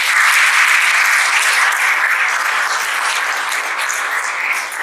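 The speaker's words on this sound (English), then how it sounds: "give him another round of applause" Steady, dense applause from a lecture audience fills the space continuously, loud and sustained throughout without any talking over it.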